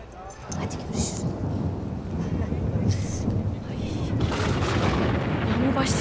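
Thunder rumbles in heavy rolls as rain begins to fall, producing a steady hiss with loud booming swells, while voices speak over the storm.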